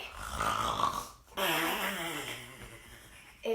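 A voice imitates a loud, rumbling snore, two long drawn-out snorts separated by a brief pause, close and alone.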